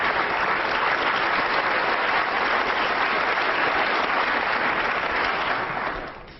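Sustained, dense applause from a snooker crowd at the 2006 Grand Prix final, loud and steady throughout before tapering off at the end, with no talk over it.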